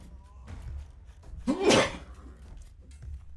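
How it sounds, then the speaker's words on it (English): A single sharp sneeze bursts out near the microphone after a quiet inhale, loud and brief against a low background hum. "Sorry, I had to sneeze."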